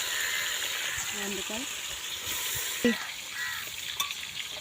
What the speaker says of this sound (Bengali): আর মাছটা এই ভাজা হচ্ছে বড় কড়াইয়ের মধ্যে